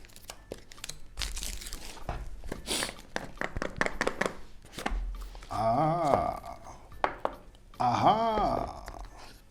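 Packaging for a Google Pixel 5 phone is cut and torn open with a Mantis Gearhead unboxing knife, giving close crinkling, tearing and crunching plastic and cardboard in bursts, with a few soft thunks and a voice briefly talking.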